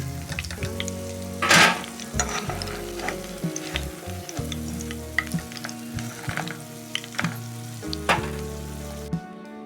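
A batch of pea pod pakoras fries in hot oil with a dense, steady sizzle and crackle, broken by occasional stirring clinks and louder spatters. No voices are heard.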